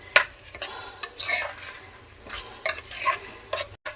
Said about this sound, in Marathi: तांदूळ घालून परतून घेतलेले आहे